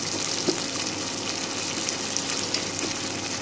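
Rice frying in a pan with cardamom while kheer is made: a steady, dense sizzle and crackle that holds at an even loudness throughout, close by and with no voices.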